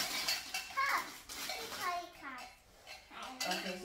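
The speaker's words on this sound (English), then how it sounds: "Okay, so this is a kettle." Toy tea set pieces, a small kettle and dishes, clink and rattle softly as they are handled, with light knocks scattered among a child's and an adult's speech.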